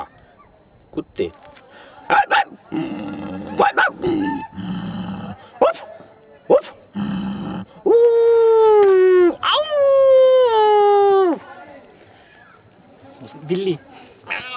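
A voice mimics dogs barking, with short choppy yelps followed by long, drawn-out howling bark imitations, close and loud.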